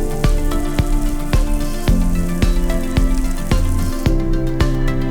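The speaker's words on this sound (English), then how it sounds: "Flip over the slice and equally fry on the other side as well." Beef slices fry in hot oil with a steady, crackling sizzle, loud and close, punctuated by sharp regular pops and clicks roughly every half second, with no voices.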